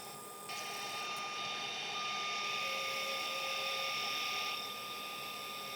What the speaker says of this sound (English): I'm using the 5/8 bowl gouge by David Ellsworth